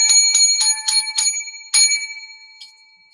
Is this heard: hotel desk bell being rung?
yes